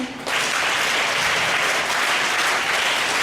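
An audience of school students and staff breaks into loud, sustained applause that begins abruptly and continues steadily.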